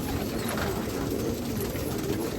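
Pigeons cooing at an old pigeon loft on Nashik Road, heard as soft low coos over a steady dense background of bird noise, continuous throughout.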